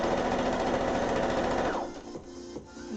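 Sewing machine running steadily at a fast, even whirring stitch for about two seconds, then stopping, with a few soft clicks and thumps from the machine afterward.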